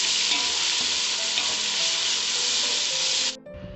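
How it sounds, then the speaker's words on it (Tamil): Ginger garlic paste and masala sauté in hot oil for chicken dum biryani, giving a loud, steady, even sizzle that drops away abruptly just before the end. "இப்போ இஞ்சி பூண்டு பேஸ்ட் ஆட் பண்ணி ஒரு 2 நிமிஷம் நல்லா வதக்கி விட்டுடலாம்"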